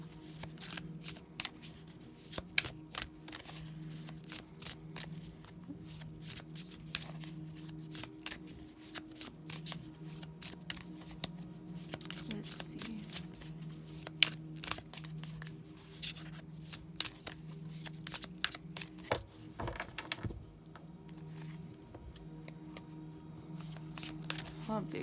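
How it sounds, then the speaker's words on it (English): Steady riffling and sliding of large tarot cards being shuffled, close and continuous with soft papery flicks throughout, no talking. "Oh, big cards are so hard to shuffle."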